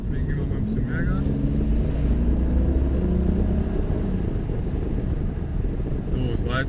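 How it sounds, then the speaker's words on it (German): A car engine revs up under load during an exhaust test, a steady loud rumbling drone that rises and holds for several seconds, with a voice talking over it. "Deswegen geben wir mal ein bisschen mehr Gas."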